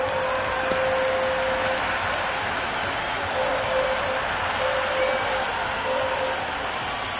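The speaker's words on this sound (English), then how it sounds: "The crowd are really getting quite raucous." Raucous stadium crowd noise during a Pakistan vs Bangladesh T20 match in the Cricket 26 video game, heard as a steady loud roar of cheering and clapping that fills the whole stretch, with a thin whistle-like tone on top.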